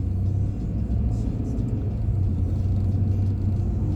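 A truck drives along a city road, heard from inside the cab as a steady low engine rumble and road noise that holds constant throughout.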